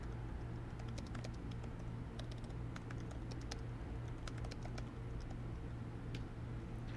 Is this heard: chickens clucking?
no